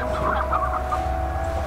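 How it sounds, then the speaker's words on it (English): Hens clucking on a chicken farm in the video game Slime Rancher, a steady run of clucks over a constant low hum of in-game background ambience, with no talk. "I'm actually collecting hen hens, because I'm gonna be having a chicken farm."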